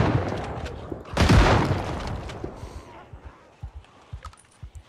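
A shotgun fires during a zombie fight in the video game Project Zomboid: one loud blast stands out, then softer scattered thumps and clatter follow.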